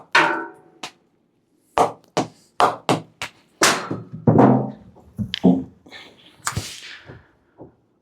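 A cricket ball strikes an English willow duckbill-profile bat in a run of sharp, separate knocks spaced irregularly over several seconds, close and clear with no talking.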